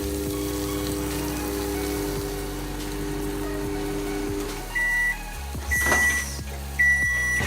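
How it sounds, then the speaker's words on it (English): A microwave oven runs with a steady low hum while warming plates, then shuts off, followed by a few short electronic beeps near the end. "So we're gonna put the plates in the microwave for like a minute."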